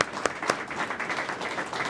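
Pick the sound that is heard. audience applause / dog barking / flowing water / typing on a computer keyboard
audience applause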